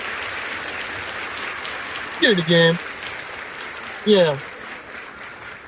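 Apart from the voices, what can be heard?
applause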